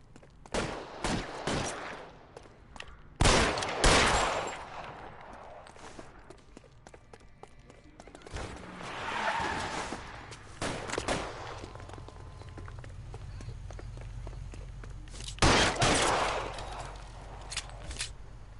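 Gunfire in L.A. Noire comes as several sharp, loud shots in separate bursts, spaced out over a quiet background with faint movement between them.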